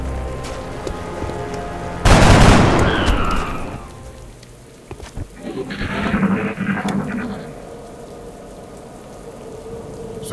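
Gunfire from soldiers' weapons in XCOM: Enemy Unknown, one loud burst opening a crackling volley that fades, then a second softer rattling round, with no voices.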